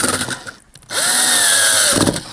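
A power drill drives screws through small wooden pieces into a cooler frame: a brief whir, a pause, then a loud sustained whine that winds up and down before stopping, close by.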